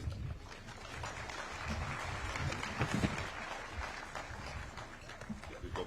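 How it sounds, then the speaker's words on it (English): Applause from the audience at a university graduation ceremony fills the hall, a steady, dense wash of clapping at moderate distance that holds for several seconds with a slight swell near the middle. "Let's give them another round of applause."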